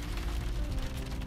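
Steady rain on a wet, windy coast at Bamburgh gives a dense, continuous wash of noise, loud and unbroken for the whole moment.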